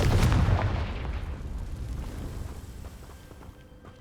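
A Confringo fire spell in the video game Hogwarts Legacy bursts with a single heavy, booming blast that fades into a rumbling tail over a few seconds.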